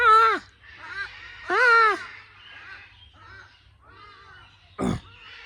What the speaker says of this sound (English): These fucking birds, man.